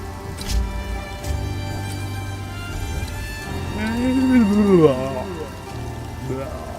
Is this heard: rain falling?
yes